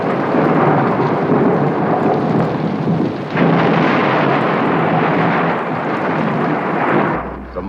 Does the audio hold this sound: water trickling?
no